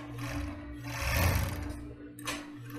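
A sewing machine stitches the lining of a child's underwear together in short bursts of rapid mechanical whirring and clatter, close up, pausing briefly between runs, with no speech.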